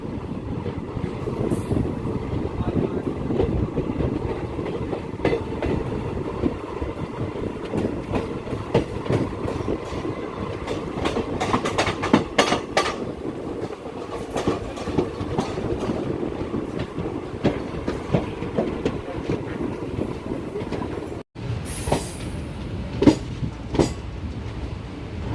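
Steady clickety-clack and rolling rumble from inside the Haridwar–Bhavnagar Terminus Express as it travels between Haridwar and Hisar, a continuous rail-wheel rhythm with brief clatters and a sudden sharp gap near the end, no voices.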